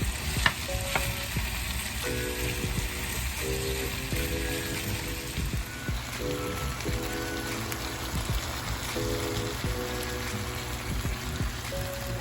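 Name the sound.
onions and garlic frying in a pan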